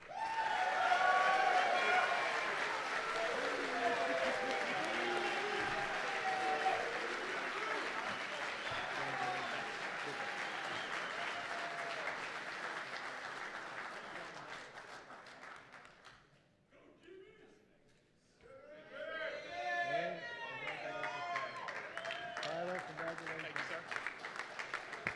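Audience applause for graduates at a recognition ceremony swells as a broad, sustained clatter with scattered cheers, drops to near silence, then resumes with a second burst of clapping and voices.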